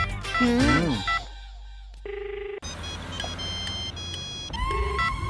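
A short run of telephone dialing tones, steady electronic beeps in a quiet stretch, with voices and background noise before and after.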